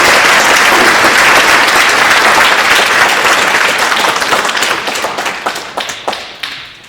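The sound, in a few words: audience applause for the judges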